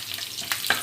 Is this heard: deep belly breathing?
no